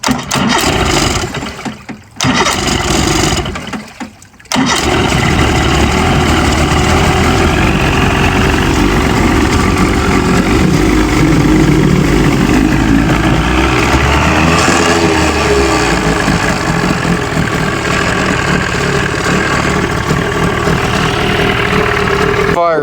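A Jon boat outboard engine cranks after a few brief sputters, then catches and settles into a loud, steady idle that runs close by for the rest of the clip, with voices talking over it.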